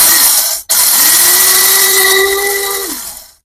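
A Nima 2-in-1 blender grinds dry rice with a loud, steady motor whine that briefly cuts out, restarts and then winds down at the end.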